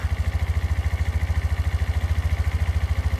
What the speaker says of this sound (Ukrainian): Давайте послухаємо двигунчик.